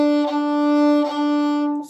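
A violin bows sustained notes that blur together without clear gaps, a smooth connected sound heard close and alone.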